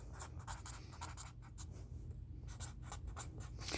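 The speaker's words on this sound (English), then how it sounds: "I'm going to write what I wrote on my other paper" Pencil writing on paper in a quiet room, a soft series of quick scratchy strokes with short pauses, faint and close, without speech.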